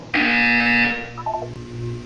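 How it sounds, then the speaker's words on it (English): A buzzer tone from the video game Portal 2 sounds once, loud and steady for under a second, then fades into a few faint electronic blips over a low background hum. "When you hear the buzzer, look down at the floor."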